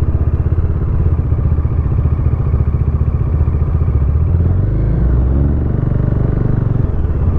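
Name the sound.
Modenas Dominar 400 motorcycle engine while riding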